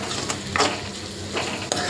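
Onion, tomato and spice masala with turmeric, chilli and coriander powder sautéing in a pan, a steady close sizzle broken by a few scraping stirs of a spoon against the pot, with no voices.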